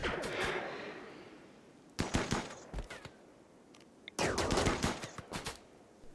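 Rapid bursts of gunfire ring out during a fight against melee-armed tribespeople in the video game Rimworld, with two dense volleys separated by a short lull and scattered single shots.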